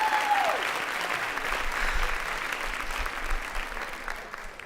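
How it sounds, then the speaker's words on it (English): An audience at a dance kickoff event applauds the DJ, a full round of clapping that holds steadily for several seconds before easing slightly at the end. "Can I get a round of applause for my DJ?"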